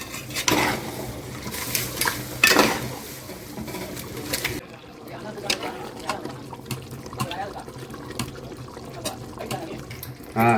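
A spoon scrapes and clatters against a pot while beef biryani is mixed, with uneven metallic knocks and stirring scrapes, loud at first and then softer, as a voice talks over it.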